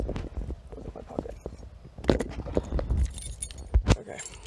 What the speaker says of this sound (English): This is my key to lock the door.